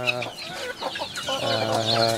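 Native hen clucking beside her day-old chicks, with soft cheeps and repeated harmonic clucks close by over about two seconds, continuous and fairly loud.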